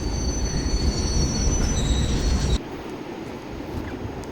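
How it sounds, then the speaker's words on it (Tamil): Train rolling past in an Indian bike video game, a heavy rumble of wheels on rails with high squealing metal tones, which ends abruptly partway through as the sound drops to a quieter rumble. "இதான் நான் சொன்ன புது ட்ரெயின்."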